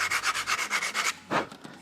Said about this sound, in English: Just give it a sand off there.